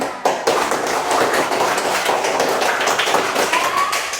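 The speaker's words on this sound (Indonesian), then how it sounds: "Oke, tepuk tangan untuk kita semua." Students clapping together in a classroom during a lesson on animal reproduction, a dense, steady patter of many hands that starts abruptly and continues for several seconds, with a few louder taps and a brief voice near the end.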